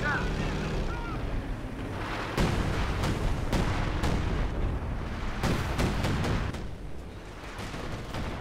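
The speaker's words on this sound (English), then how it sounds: "Artillery there, Jackson moving in." Artillery strikes land in the Company of Heroes 2 battle, a run of heavy booming impacts and sharp blasts amid rumbling combat noise, with a commentator talking throughout.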